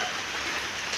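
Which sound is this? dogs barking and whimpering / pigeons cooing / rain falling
rain falling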